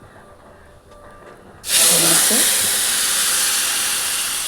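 Cooked pumpkin drops into hot coconut oil with popped mustard seeds, setting off a sudden loud, steady hiss that fills the pan after a quiet moment with a brief spoken word.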